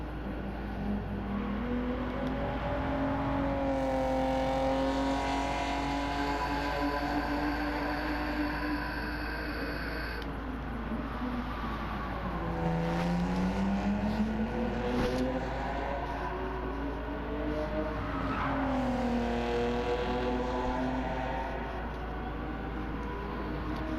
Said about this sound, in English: they came out with a Gran Turismo game where every single car sounds different